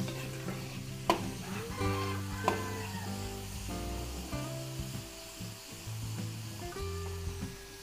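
Onions sautéing in a pan as the base for Filipino beef kaldereta, a steady close sizzle with scraping and stirring strokes and occasional sharp clinks of the utensil, no voices.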